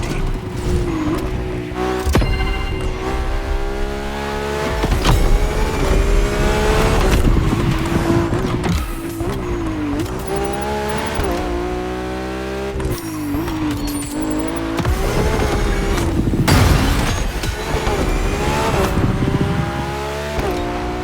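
Ferrari F50 road-legal supercar racing in The Crew Motorfest, its high-revving engine screaming loud and close through repeated upshifts and downshifts, with pitch sweeps, brief tire squeal and no talk over it.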